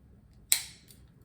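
A single crisp snip as scissors cut through vanilla beans, one sharp close click that fades quickly into quiet, with a faint second tick just after.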